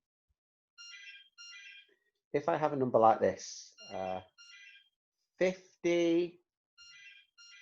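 Mobile phone ringtone chiming in short repeating melodic bursts, clear but moderate, alternating with a person speaking over it.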